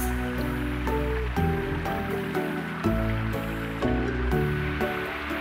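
Water rushes fast over a beaver dam on a winter creek after a storm, a steady, loud, close roar of flowing water with no break.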